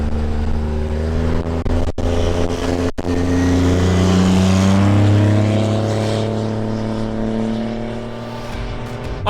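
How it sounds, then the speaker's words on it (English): A 2014-or-newer Cummins 2500 diesel truck engine with a compound turbo growls loudly up close, a deep rumbling roar with a rising, whistling turbo tone before easing off. "There's no better diesel sound than this one right here."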